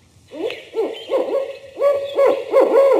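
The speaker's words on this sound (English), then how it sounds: "and the barred owl." Barred owl hooting in a steady series of about six rounded, descending hoots, close and clear with a slight echo, no talk over it.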